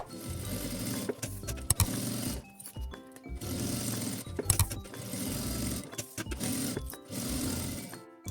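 A sewing machine runs a safety seam along the edge of a pouch in repeated bursts of fast, rattling stitching, broken by brief stops, close and steady with no talking.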